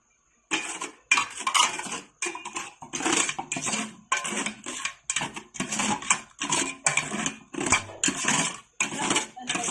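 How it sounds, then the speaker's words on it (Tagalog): Butter and cocoa being stirred with a spatula in a bowl for no-bake cookies, heard as a steady run of close scraping and clinking strokes against the dish, repeating in an uneven rhythm with no talk. "Haluin lang ito hanggang sa mag-cream."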